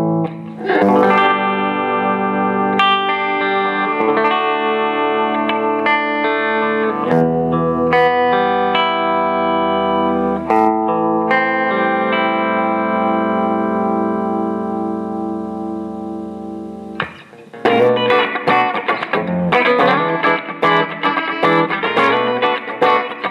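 Electric guitar plays through a Fender Twin amplifier at low volume with mild overdrive, sustained chords and single notes ringing out, then a faster strummed passage with natural room echo.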